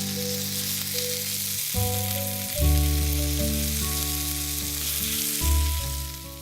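Chopped red chilies and hing sizzling in hot oil in a pan for cranberry pulihora, a steady crackling fry over a low musical hum, with occasional stirring scrapes and no talking.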